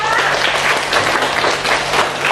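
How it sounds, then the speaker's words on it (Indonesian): Students in a classroom applaud a classmate, a loud, close burst of many hands clapping that stays even and dense throughout, with no talking heard. "kita kasih tepuk tangan untuk Desita."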